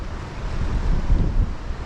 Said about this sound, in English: when that tide starts to flood in, the wind tends to pick up